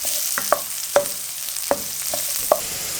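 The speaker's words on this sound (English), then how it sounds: "First out red onion, together with the garlic. Just stir this a little bit" Red onion and garlic frying in a pan as a sauce base, with a steady hiss of sizzling oil and several sharp scrapes and clinks as a utensil stirs, close up with no talking.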